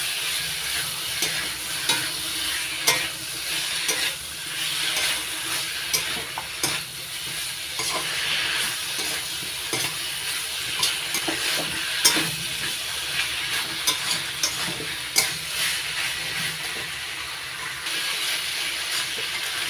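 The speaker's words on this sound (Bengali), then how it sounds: "এবার ভেজে রাখা চিচিঙ্গা আর আলু ভালো করে মশলা করে কষিয়ে নিচ্ছি।" Snake gourd and potatoes stir-fried with spices in a pan, a steady close sizzle running throughout with frequent scraping and clacking stirs of a spatula, no voices.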